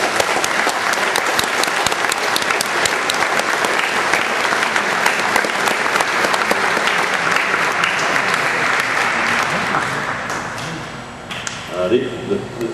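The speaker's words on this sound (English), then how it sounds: "Let's give a round of applause to family members." Large audience applause at a military deployment ceremony for the 64th Transportation Company, a dense, steady roar of many hands clapping nearly throughout before tapering off near the end, with a few voices rising over it.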